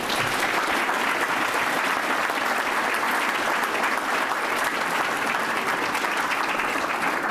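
Lecture audience in a hall applauds to welcome literary critic Terry Eagleton, a dense, even roar of many hands clapping at the same level throughout with no break.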